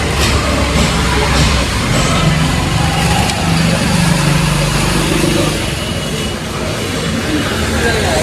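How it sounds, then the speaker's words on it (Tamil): A Honda City car engine drones steadily and loudly, with a faint rhythmic whir from a loose pulley belt running throughout, heard up close with no talking. "அந்த புள்ளி பெல்ட்டுக்கு வர நாய்ஸு. பெல்ட்டு ரொம்ப வீக்காக இருக்குது, அதனால் இன்ஜின்லேருந்து நாய்ஸ் வந்துட்டுருக்கு."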